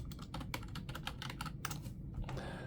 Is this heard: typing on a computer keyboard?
yes